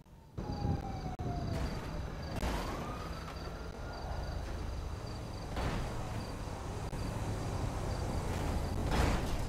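A police siren in GTA V, wailing at a distance with rising and falling sweeps over a constant insect-like chirping background, with a few sharp clicks or thumps scattered across the stretch.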